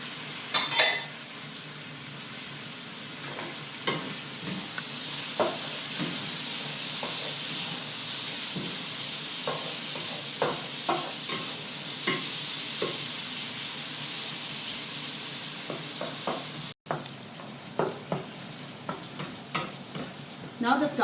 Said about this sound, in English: Now that the onion is transparent, you can now add the bagoong